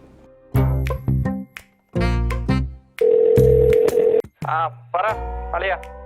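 Telephone tones from a phone call in a Malayalam TV comedy scene: loud, distinct electronic beeps and buzzing ring tones in separate bursts, with gaps of silence between them.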